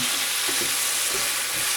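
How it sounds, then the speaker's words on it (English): Chili ingredients sizzle and crackle steadily in a hot frying pan, a dense hiss with small pops throughout, close and fairly loud, no voices. "It's getting a bit snappy on the frying."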